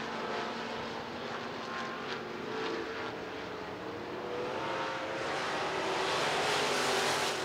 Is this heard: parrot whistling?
no